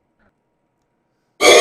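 A single sharp cough or throat clearing bursts out loud and close near the end of a live stream, following more than a second of near silence.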